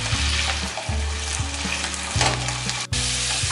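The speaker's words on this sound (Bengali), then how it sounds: "মিডিয়াম রেখে আমি আলুগুলোকে 2 মিনিট ভেজে নেব।" Potato pieces fry over medium heat in a pan for Bengali alu posto, a continuous moderate sizzle broken by several stirring scrapes.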